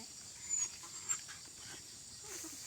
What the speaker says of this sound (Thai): กี้ผมได้ยินเสียงร้องเสียงเห่าครับ ก็เลยมาถ่าย